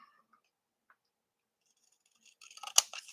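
Scissors trim paper in a short, close burst of crisp snips near the end, after a few seconds of near silence broken only by faint ticks.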